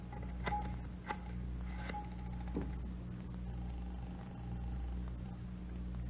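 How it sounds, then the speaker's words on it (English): Several short tone pulses and clicks come from a telephone being dialed in an old radio drama, repeating quietly over a low background hum. "Could I use your phone, Miss Waters?"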